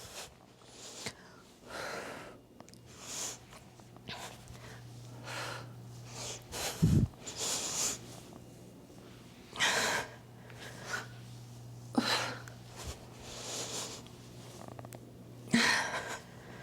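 Breathing during a glute bridge exercise, a series of soft, airy inhales and exhales at a slow, irregular rhythm, close and moderately quiet with no talking.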